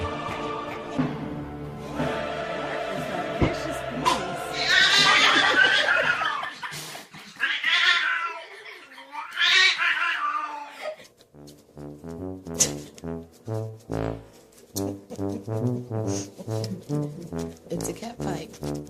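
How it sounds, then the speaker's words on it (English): Cats squalling and yowling in a tussle, harsh rising wails in the first half, then a choppy stretch of rhythmic cries toward the end, with voices and laughter mixed in. "It's a cat fight."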